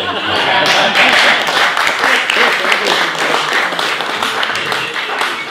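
An audience claps in sustained applause for a volleyball trophy presentation, dense and loud from start to finish, with a voice speaking over it.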